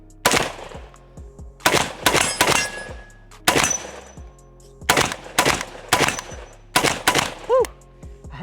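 Rapid gunfire, most likely from an AR-15-style rifle, strikes steel targets outdoors. Several tight bursts of sharp cracks land about every second, each followed by a bright metallic clang and ring.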